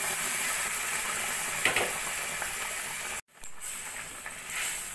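Boiled kabuli chickpeas go into frying masala with a steady close sizzle and light stirring scrapes, broken by a brief silent gap before the frying hiss resumes.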